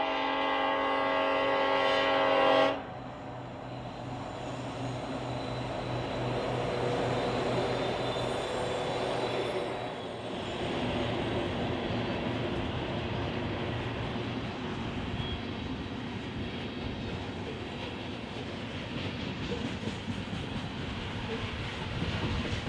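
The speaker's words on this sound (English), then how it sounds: "Its SD-70 Ace units roaring as they lift the train out of town." A BNSF coal train led by SD70ACE locomotives pulls out of town, a short horn blast giving way to a heavy sustained diesel roar and rumbling wagons, loud and continuous throughout.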